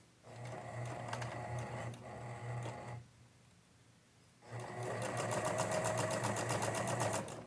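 A sewing machine stitches bias binding along the neckline of a 1950s-style dress bodice, running in two steady bursts with a brief pause between them, close and clear.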